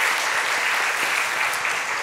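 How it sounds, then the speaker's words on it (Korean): A church congregation gives a big round of applause for the Baenamu Cross choir during a worship service, a full, steady roar of many hands clapping throughout, with no speech. "다시 한번 우리 배나무 십자가 찬양대 큰 박수로 격려하겠습니다."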